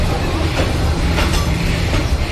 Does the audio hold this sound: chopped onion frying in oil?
no